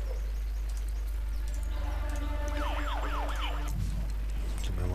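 A police siren in the SimCity 2013 city-building game wails in a rising and falling pattern over a steady low hum and faint background game sounds.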